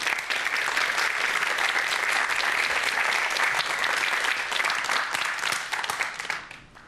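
An audience at a popular science lecture on quarks applauds to welcome the speaker, with steady, full, continuous clapping for several seconds that tapers off at the end.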